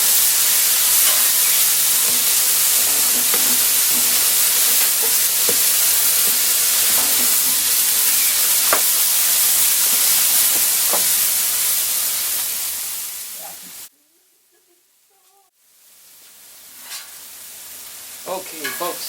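Onion buns toast on a Blackstone flat top griddle, giving a loud, steady sizzle and hiss that suddenly drops out near the end before returning faintly with light clicks.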